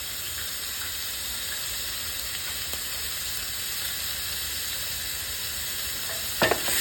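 Seasoned pork sizzling in a paella pan, a soft continuous hiss of frying with a brief scrape of stirring near the end, fairly quiet and with no talking.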